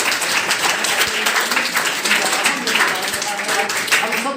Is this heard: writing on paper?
no